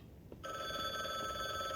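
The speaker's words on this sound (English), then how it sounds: "the phone's ringing" In The Bookwalker: Thief of Tales, a telephone starts ringing after a brief quiet moment with a bright, sustained electronic ringing tone that carries steadily on, moderately loud.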